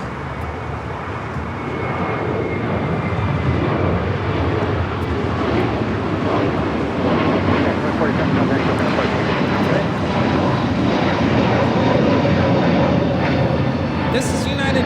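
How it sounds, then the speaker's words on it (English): A United Airlines A321neo taking off from LAX, its engine roar building after a couple of seconds into a loud, sustained rumble that holds steady through the rest of the takeoff. "This is United Airlines 2487 taking off to Chicago on the A321neo."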